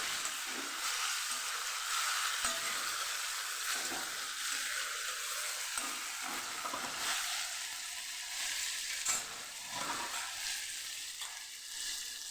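Potato pieces fry in hot oil in a pan for a cabbage-potato curry, a steady close sizzle and hiss with occasional stirring scrapes, no talk.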